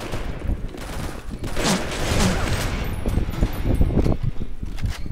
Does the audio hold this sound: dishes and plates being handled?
no